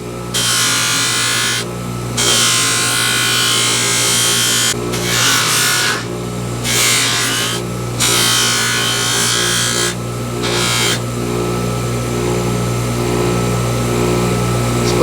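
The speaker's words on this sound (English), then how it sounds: "Just keep it circling around so I don't keep polishing in just one direction" Power tool polishing the peen of a jewelry hammer, a steady high whirring grind with repeated surges and dips as the tool circles over the metal, loud and close, no voices.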